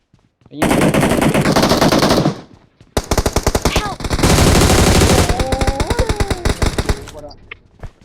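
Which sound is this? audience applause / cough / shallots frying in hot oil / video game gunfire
video game gunfire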